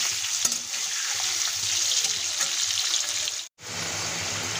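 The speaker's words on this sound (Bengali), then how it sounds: "ততক্ষণে আমি আলুগুলো ভেজে নেব। এখানে আমি সর্ষের তেল ব্যবহার করছি" Potatoes fry in mustard oil with a constant close crackling sizzle and a few faint stirring scrapes, briefly cut off near the end before resuming, and no speech over it.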